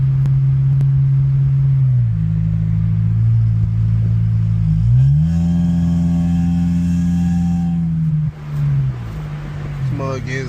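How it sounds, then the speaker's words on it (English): Loud aftermarket exhaust of a Honda Civic drones with a deep, steady rumble. The pitch shifts in steps as the revs change, close to the microphone, with no one talking. "the sound of my fucking fat ass exhaust on my fucking Honda"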